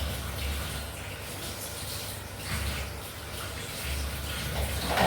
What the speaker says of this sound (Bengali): কালকের অনেক বাসন রয়েছে, সেগুলো একটুখানি রান্না করতে করতে ধুয়ে নিলাম।